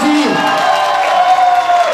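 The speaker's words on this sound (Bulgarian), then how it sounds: "Аплодисменти!" Wedding guests cheering and clapping for the newlyweds, a loud crowd roar with whoops and scattered applause, with music tones running underneath.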